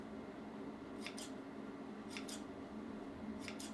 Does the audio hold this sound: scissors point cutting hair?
yes